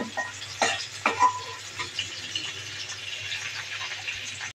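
Coriander leaves, onion and green chillies frying in a pan give off a steady close sizzle, with a few sharper stirring scrapes and clinks early on before it settles into a continuous hiss.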